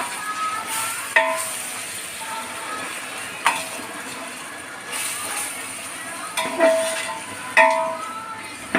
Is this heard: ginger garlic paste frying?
yes